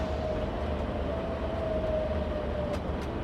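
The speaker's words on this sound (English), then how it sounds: "Have you heard of the N1000 Siemens GTO propulsion?" Train with N1000 Siemens GTO propulsion in a railway video game runs with a steady rumbling roll and a faint whining motor tone that glides slightly in pitch over the constant noise.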